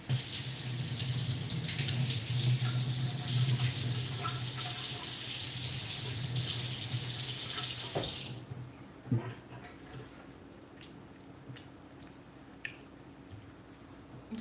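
Tap water streams steadily to rinse briny roasted peppers, a loud continuous rush that cuts off after about eight seconds, leaving a quiet room with a few faint clicks and drips.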